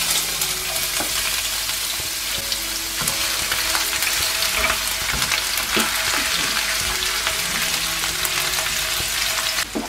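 Onion and ginger tempering frying in oil in a kadhai for kadhai paneer, a loud dense continuous sizzle with occasional stirring clinks, close and steady throughout.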